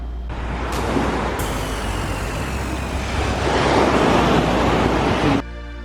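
Ocean waves break on a beach in a steady, loud, broadband roar of surf that swells slightly toward the end before cutting off abruptly, with no voices.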